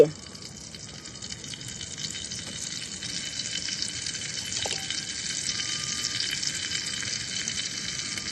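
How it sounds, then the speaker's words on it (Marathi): Cumin seeds fry in a small ladle of hot oil, a close, steady hiss and sizzle with a faint crackle, while a voice talks quietly in places. "जिरे चांगले ताडताडले"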